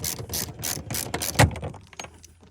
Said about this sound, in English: easiest way I've found to undo this bolt is you want to pull on the pull strap as you're doing it to get that tension on the ratchet